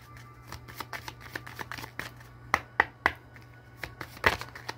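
A Shapeshifter Oracle card deck being shuffled by hand, a run of crisp riffling card flicks and taps close by, quiet at first and growing sharper and louder toward the end, with no talking.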